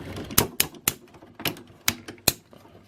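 Ratchet joints on a MasterMade Apollo action figure snap through their detents, producing about seven sharp, close, crisp clicks spaced irregularly over a few seconds, alone with no talking.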